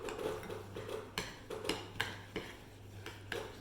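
A utensil scrapes and taps against a bowl while flour is mixed with melted coconut oil, giving a string of quiet irregular clinks and knocks, close and soft, with no talking.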